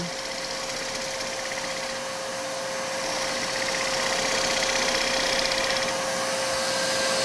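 A wood lathe turning a large natural-edge bowl about three feet across gives a steady, close machine whir with a constant hum. It holds even and continuous throughout, and no one speaks.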